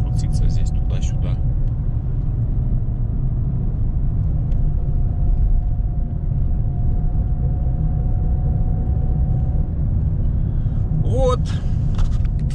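A car on a road toward Armenia, heard from inside the cabin: a steady low engine and road rumble runs throughout, with brief human sounds near the start and end.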